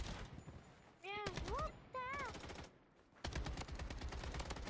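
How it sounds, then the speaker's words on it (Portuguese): Rapid bursts of gunfire in the shooter game Blood Strike, several volleys of sharp repeated shots with brief pauses and electronic tones in between. "Um tiro."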